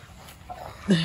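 Near the end, a dog lets out one sudden yelp or bark over quiet background murmuring.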